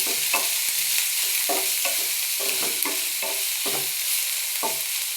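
Onions frying in a pan while being stirred, a constant loud sizzle with repeated scraping strokes of the spoon at an uneven rhythm, close up and with no voices.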